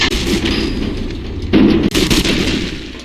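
Rocket explosions in Fallout: New Vegas: a loud, continuous barrage of booming blasts and gunfire-like impacts, with a heavier burst near the middle, all without talk.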